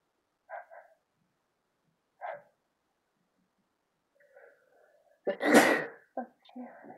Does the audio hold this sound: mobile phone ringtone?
no